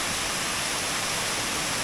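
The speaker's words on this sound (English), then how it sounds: "on the other side of Lake Lindsay Waterfall" Lake Lindsay Waterfall in David Crockett State Park, southern Tennessee, roars as a steady, loud, broadband rush of falling water that fills the whole moment with no voices.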